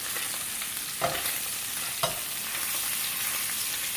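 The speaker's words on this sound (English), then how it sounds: "maybe I'm stir frying this bacon" Bacon stir frying in a pan for a low-carb cauliflower rice dish gives a steady close sizzle and hiss, broken by two brief clacks of stirring about a second apart.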